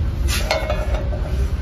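Metal pans and utensils clatter and clink briefly in a crowded utensil shop at Meem Market in Kuwait, a few close, bright knocks over steady background crowd noise.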